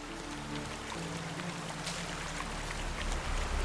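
Steady rain in The Witcher 3: Wild Hunt, a dense, continuous patter and hiss at moderate level, heard alone with a low hum beneath.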